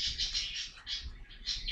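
Pet budgies chirp in a series of bright, repeated high twitters that come in short bursts with brief gaps, fairly close and clear, with no talking.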